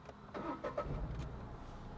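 A learner car's engine runs at low speed during a driving lesson as the clutch is eased out, a steady mid-range hum with a slight rise, close by and with no talk over it.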